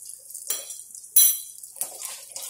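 A spoon scrapes and clinks against a pan as garlic is stirred in melted butter, with a few separate metallic strokes and a soft sizzle underneath.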